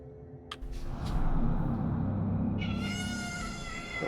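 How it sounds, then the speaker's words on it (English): A cat meows insistently, a couple of short calls followed by a long drawn-out loud yowl over a steady low background hum. "I have a cat yelling at me."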